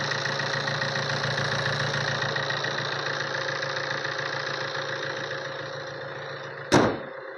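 A Tata Aria 4x4 engine idles at a steady, even hum with a faint rhythmic chug, heard close and alone, ending in a sudden sharp knock or thud near the end.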